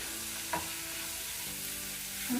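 Paneer bhurji is mixed in a pan with a spoon, a soft, steady sizzle with a couple of faint scraping knocks, quiet and close with no talk.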